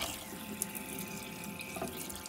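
Cold water streams steadily from the faucet into the sink of an old 1986 Weippert caravan, a continuous close hiss and splash with no one speaking.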